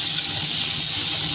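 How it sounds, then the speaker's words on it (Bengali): Chopped tomatoes hitting hot oil in a pan already holding chilli, bay leaf and black cumin, giving a loud, steady, close hiss and sizzle with no talk. "এবার টমেটো কুচি দিয়ে দিচ্ছি।"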